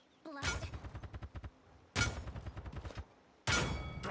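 Rapid-fire weapon bursts in the game Paladins, three loud strings of quick rhythmic shots, each lasting about a second with short pauses between them.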